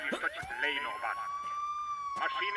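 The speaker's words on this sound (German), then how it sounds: "Das macht auch keiner die Sirene aus, ne?" An emergency siren left wailing, a steady rising tone held under overlapping chatter from nearby voices.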